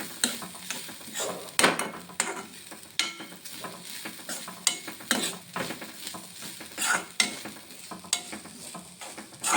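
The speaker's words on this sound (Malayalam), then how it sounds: "ഈ തേങ്ങയും കൂടി ഇട്ട് കൊടുത്ത ശേഷം നന്നായിട്ടിത് വറുത്തെടുക്കാവേ" Grated coconut dry-roasted in a pan, stirred steadily with scraping strokes and a soft continuous sizzle, close up with no talk.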